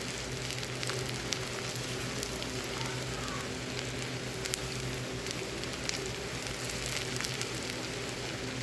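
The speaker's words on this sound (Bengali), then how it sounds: "পেঁয়াজটা বাদামি করে ভেজে শাকের উপরে দিয়ে দিব।" Onions fry until brown for a red amaranth and shrimp dish with olives, giving a steady, close sizzle of hot oil with faint pops, continuous and even, with no talking.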